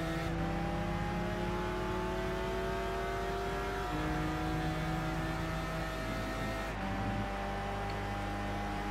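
A Nissan Skyline race car in Gran Turismo 6 driving at speed: a continuous, loud engine drone with rising and shifting tones as it revs through gears, one sharp pitch drop near the end, no talking.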